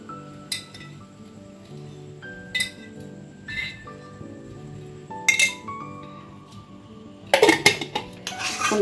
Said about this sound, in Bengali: ভালো করে মিশিয়ে নিয়ে সার্ভ করব